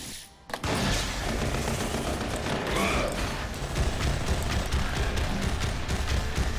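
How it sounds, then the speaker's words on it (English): Rapid rifle gunfire from the Punisher in the Marvel Heroes game, a fast, steady stream of shots that starts abruptly and continues densely for several seconds, with faint talk underneath. "my rifle shot is so fast that it's almost worth just using that for one-on-one targets"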